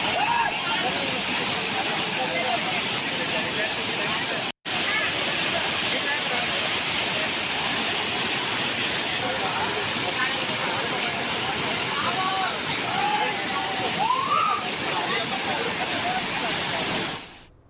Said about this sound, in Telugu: భారీ వర్షాలతో ఉలిపిట్ట జలపాతం హోయిలిపోతోంది